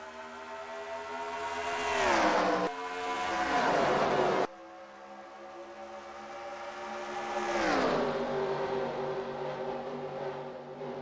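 Race cars roar off at the green flag at Atlanta Motor Speedway in a stock-car racing video game, loud engine drones climbing in pitch through gear changes, with one abrupt cut partway through.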